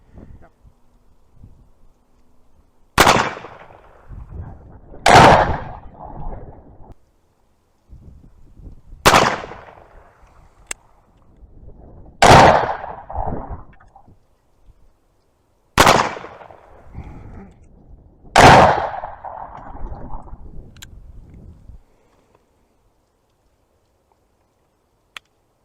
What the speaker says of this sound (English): First shots with my Colt Dragoon by Uberti.